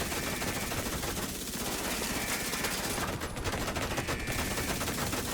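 Sustained automatic gunfire roars in Division 2 combat, a loud, unbroken stream of rapid shots dense with mechanical noise and no talk over it.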